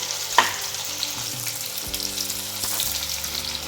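Onions sizzling and frying in hot oil in a pan for beef chukka, a loud, steady close crackle with a sharp clatter at the start and the occasional stir.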